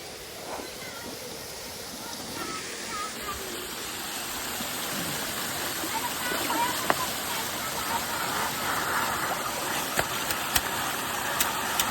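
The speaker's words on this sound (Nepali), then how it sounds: "हेर्नु त पानी त आज लास्टै ठुलो भइसकेको छ क्या पानी" A swollen stream rushes in a steady broadband roar close by, its noise rising gradually, with occasional clicks and a brief voice in the background.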